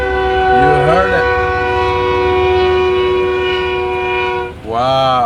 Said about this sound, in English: You got to see a moving train.